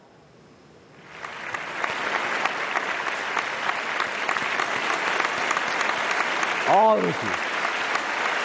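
Applause from a studio audience honouring a Pakistani karate champion swells in after a quiet moment and holds steady, with a voice speaking briefly over the clapping near the end.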